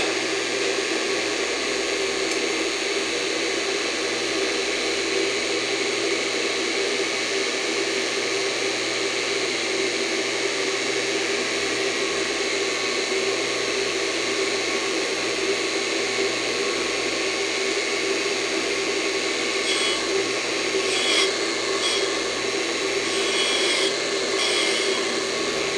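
A surface grinder works across a steel block being ground square, giving a steady, continuous loud grinding hiss with a constant hum underneath, and brief faint ticking near the end.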